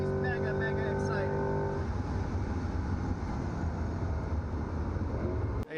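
Trans Am TA2 and GT class race cars cross the start-finish line at Road America, giving a continuous broadband engine roar that starts with high, whining tones, under a voice talking throughout.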